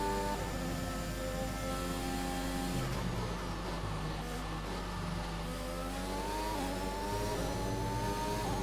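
An F1 2021 racing car engine revving hard in a video game, a loud continuous high-pitched whine with gear changes that drop and climb again, heard close and on its own.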